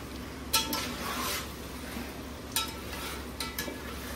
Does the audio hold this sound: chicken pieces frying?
yes